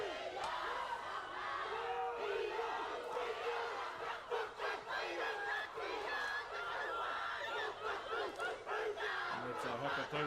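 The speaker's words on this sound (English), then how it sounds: "it's a haka tautoko, like a supporting haka from the crowd" A crowd performs a supporting haka tautoko after a Māori wood carving group's showing, many voices chanting and shouting together in loud rhythmic unison, dense and close, sustained throughout without pause.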